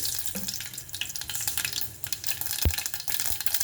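Mustard and fenugreek seeds crackle in hot oil in a kadai for sweet potato mulakada pulusu, a steady dense sizzle with scattered sharp pops and one louder snap near the end, close and alone.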